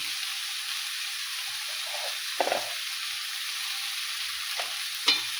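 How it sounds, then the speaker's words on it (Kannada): Curry with peanut powder stirred in a pan over a steady background hiss of cooking, with a few soft scraping strokes of the spoon, close and fairly quiet. "ಈಗ ಚೆಂದಾಗಿ ಮಿಕ್ಸ್ ಮಾಡ್ಕೊತಾರೆ"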